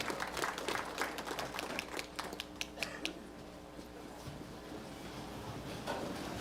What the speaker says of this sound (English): Let's give all those young ladies a round of applause.